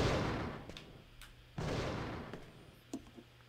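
Two heavy pistol shots ring out at target practice in Fahrenheit, about a second and a half apart, each with a long echoing decay, followed by a few faint clicks and small knocks.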